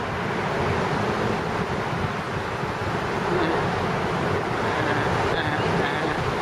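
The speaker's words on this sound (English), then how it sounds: "Bloody windy." Steady, loud wind buffeting an outdoor microphone on the Brooklyn Bridge in New York, a continuous rumbling roar with broadband gusty noise throughout.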